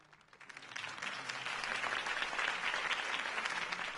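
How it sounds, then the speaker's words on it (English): Crowd applause at a political campaign rally for a city candidate, swelling from a light patter into a loud, sustained wash of clapping that holds steady, with faint voices mixed underneath. "If only Mr. Wayne, my campaign's largest backer, could have heard that applause"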